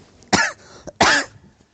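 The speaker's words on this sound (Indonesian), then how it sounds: "Nah, sampai batuk tuh." Two close, loud coughs from an audience member at an Islamic lecture, the second cough a little longer, with a short throat sound between them and no talk.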